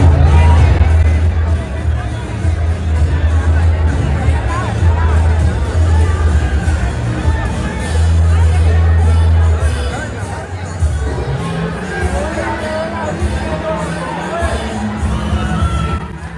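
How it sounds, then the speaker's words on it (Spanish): Loud outdoor crowd in Popayán booing Vice President Francia Márquez, a dense sustained roar of voices and shouts with steady low hum throughout, no single speaker standing out. "Y tenemos el video de los abucheos"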